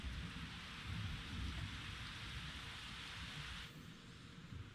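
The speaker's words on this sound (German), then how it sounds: "Und ein bisschen Blitz und Donner zu genießen." Steady heavy rain pours down during a thunderstorm in the Panama jungle, with low thunder rumbling underneath and a dense, constant wash of noise at a moderate distance.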